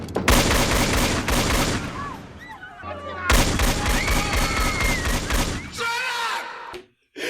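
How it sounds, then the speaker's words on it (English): Movie gunfire from a gun fired repeatedly into the air: a long, dense volley of loud shots that continues almost without a break, with a brief pause midway and voices mixed in. "Whenever Jeff Kober wants to get anybody's attention in this movie, he fires his gun in the air 20 times"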